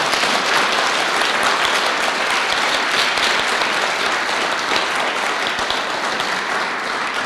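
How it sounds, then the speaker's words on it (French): A loud, continuous round of audience applause at a Montreal International Day for Biodiversity event, many hands clapping at once in a thick, even wash that holds steady to the end. "applaudissements pour vous and for the biodiversity"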